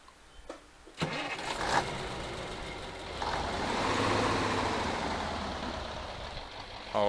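A truck engine in the Spintires off-road driving game fires up after a quiet start, then settles into a steady, fairly loud rumbling idle that runs for several seconds with no one speaking.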